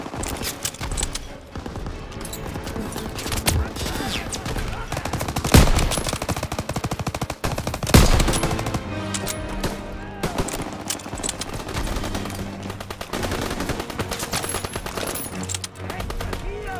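Heavy machine gun fire in the D-Day beach landing of Call of Duty WWII, with repeated rapid bursts and loud single shots over a dense battle din, while voices shout now and then.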